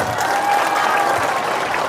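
An audience at a campaign gathering in Gunung Sari, Indonesia claps together in a brief, even burst of applause, a full crowd sound heard close and steady throughout.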